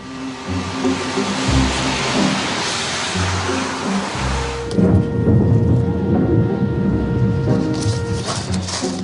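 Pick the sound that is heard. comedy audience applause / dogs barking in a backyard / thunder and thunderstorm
thunder and thunderstorm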